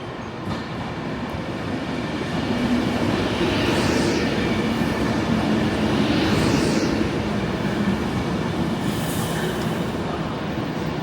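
A Class 37 locomotive hauling a scrap move rumbles past on the railway with continuous loud wheel roar and recurring squeals from the wheels, steady and close throughout, with no voices.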